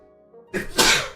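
A single sharp sneeze indoors, a short intake followed by a loud burst of breath, heard alone.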